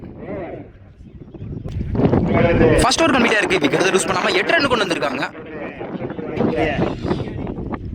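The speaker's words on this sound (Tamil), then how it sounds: "காற்று வேற ரொம்ப அதிகமாக அடிக்குது. அதனால் வாய்ஸ் கொஞ்சம் கேட்குறது கொஞ்சம் கஷ்டம் தான்." Strong wind buffets the microphone at an outdoor tennis-ball cricket tournament, producing loud, gusty rumbling that swells and fades under continuous commentary.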